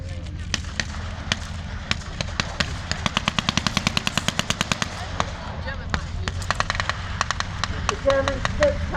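Machine guns rattle at a World War II battle re-enactment with tanks, firing long rapid bursts of sharp cracks over a constant low engine rumble, with scattered single shots in between.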